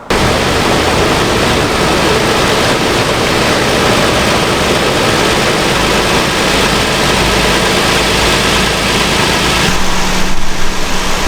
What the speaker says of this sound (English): started the vehicle. Obviously you can hear it's running.